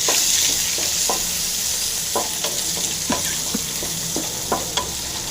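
Mustard seeds, chili, curry leaves, garlic and onion fry in hot oil, a steady sizzle running throughout with scattered stirring clinks and scrapes of a spoon against the pan.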